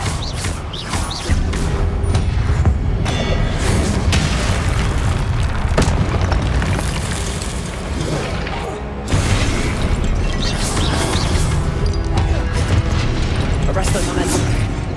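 Confringo spell explosions in the video game Hogwarts Legacy, loud booming blasts and crashes in a dense, continuous battle mix, with brief dips between bursts and a voice calling out over them.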